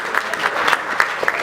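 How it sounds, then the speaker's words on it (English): A wedding reception crowd applauds the flower girl, dense close clapping that stays steady through the whole short burst. "round of applause for her"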